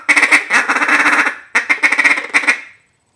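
A Daisy Cutter duck call rattles off fast, chattering digga-digga feeding notes in two dense rolling bursts, loud and up close, then falls silent.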